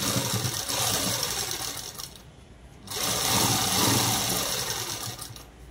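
A sewing machine stitching a long frock dress made from a saree, running in a loud, steady mechanical whir that briefly dips to a softer drone partway through, then resumes at full speed.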